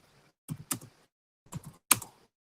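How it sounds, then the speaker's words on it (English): Keys on a computer keyboard are struck in a few short, close clusters of clicks separated by brief silences, with no talking. "Let me type it for you."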